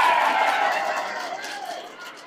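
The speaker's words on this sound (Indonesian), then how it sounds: "tepuk tangan ibu" Audience applause and cheering at an Islamic sermon gathering, a dense wash of clapping that starts loud and slowly fades over a couple of seconds, with crowd voices mixed in.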